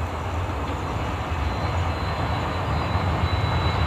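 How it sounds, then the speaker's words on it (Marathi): A railway train passes close by, a steady loud rumble of wheels and carriages running continuously with no talk over it. "रेल्वे दाखवू"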